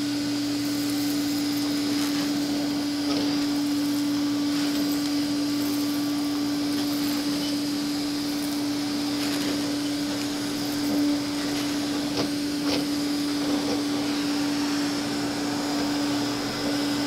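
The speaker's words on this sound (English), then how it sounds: "All right, let's fire up the Hoover." A Hoover vacuum cleaner runs at steady power for the whole stretch, with a loud, even motor drone and a strong constant whine, and no talk over it.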